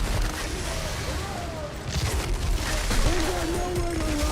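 Sci-fi shooter gunfire from Outriders, a dense stream of bursts and booms mixed with effects and a heavy soundtrack bed, continuous and loud throughout with no clear pauses.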